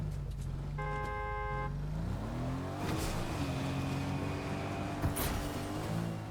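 A car in the game Fortnite drives and launches off a ramp, its engine droning and rising in pitch as it speeds up, with a brief horn-like toot early and a few thumps.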